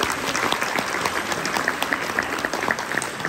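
Steady audience applause fills the hall, dense clapping at a constant level throughout with a faint crowd murmur beneath and no talk over it.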